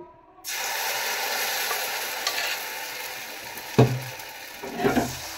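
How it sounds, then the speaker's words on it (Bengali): Batter poured into a lightly oiled iron wok sizzles at once, a steady close hiss broken by two sharper scraping clanks of the pan or utensil near the end. "এই যে ব্যাটারটা দিয়ে দিচ্ছি"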